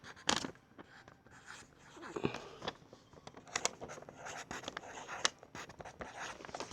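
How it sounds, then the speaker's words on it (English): Marker or chalk scratches and taps on a board while a multiplication word problem is written out, faint short strokes and squeaks in quick irregular bursts with no talking. "Let me just write it."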